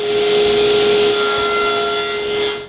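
A saw cuts wooden guides for an angle drilling jig in a workshop, a continuous loud rasping stroke with a steady tonal hum underneath, close and unbroken throughout.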